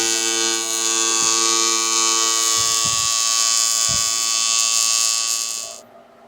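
A TIG welder running at about 100 to 120 amps on a thick radiator tank for a rear-mounted cooling system on an S10 truck gives a loud, steady electrical buzz that holds for several seconds and then cuts off.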